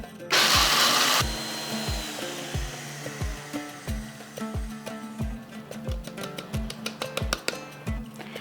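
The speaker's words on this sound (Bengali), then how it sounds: "এটাকে জল ছাড়া শুকনোই গুঁড়ো করে নেব" Dry peanuts ground to powder in an electric kitchen grinder, heard as a single loud, harsh whirring burst lasting about a second, followed by quieter rhythmic background music.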